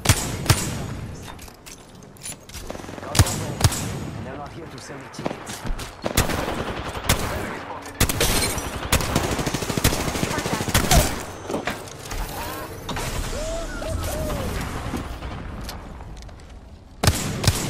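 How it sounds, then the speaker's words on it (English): Rapid gunfire rattles almost continuously in a video game firefight, sharp shots and automatic bursts stacking up with occasional heavier booms, while a voice talks over the action. "I'm taking shots. Getting shot at."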